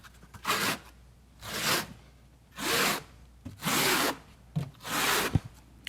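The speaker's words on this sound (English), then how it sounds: "So he's combed his thin set, he's notching it." A trowel combs and notches thinset mortar for a tiled shower bench, making five slow, broad scraping sweeps with short gaps between them, close and clear with no talk.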